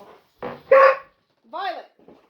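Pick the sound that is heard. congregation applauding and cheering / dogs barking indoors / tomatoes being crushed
dogs barking indoors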